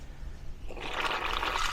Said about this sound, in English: we're just going to turn the water on